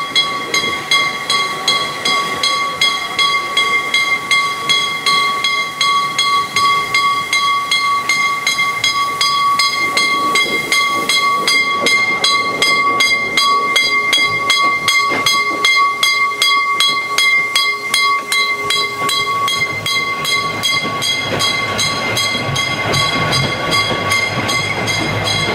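Narrow-gauge steam locomotive pulling away with a train, a steady hiss of steam and regular chuffing and rail clatter, with a sustained whistle-like tone running through, loud and close throughout.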